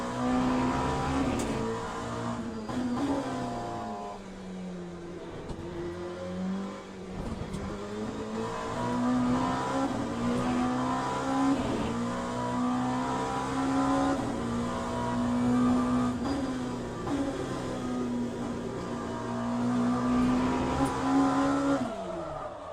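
A GTE race car in a sim racing game drives at speed, its engine howl continuously rising and falling through gear changes, loud and alone with no voices.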